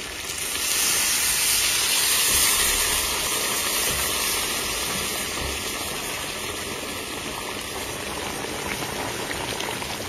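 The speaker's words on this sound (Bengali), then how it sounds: "এখন ফুটন্ত গরম জল আমরা দিয়ে দেবো" Boiling hot water pours into a pot of braised duck and jackfruit, a loud steady rushing hiss and bubbling roar that swells in the first seconds and carries on unbroken to the end, with no talk.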